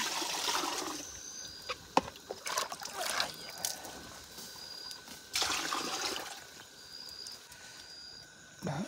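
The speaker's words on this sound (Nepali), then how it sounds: "अब चाहिँ चिसो पानी राखिन्छ।" Cold water pours and splashes into a container during home distilling of raksi, in a few bursts, with gurgling and trickling between them.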